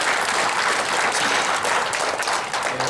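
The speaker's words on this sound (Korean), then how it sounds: "경의의 박수 좀 부탁드리겠습니다." A seated academic audience at a lecture on Chinese archaeology applauds steadily, with dense, even clapping that holds at the same level for about three seconds.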